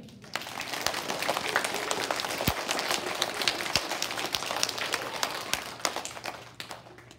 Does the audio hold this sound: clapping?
yes